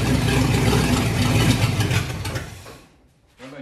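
A Ford 351 engine cranks roughly and loudly as someone tries to start it, then dies away to near silence before a brief mechanical stir returns.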